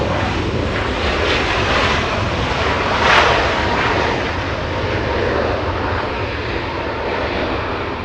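An Air Canada Boeing 737 MAX 8 airliner arriving from Vancouver at Los Angeles International Airport, a steady broadband jet roar that swells slightly near the middle and then holds, heard alone with no voices.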